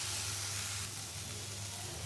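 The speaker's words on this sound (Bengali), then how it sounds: "এটা ভালো করে ভুনা করবো" Egg and red lentil dish being fried and stirred in a pan, giving a steady, soft hiss of sizzling oil with a low hum beneath, continuous and fairly quiet throughout.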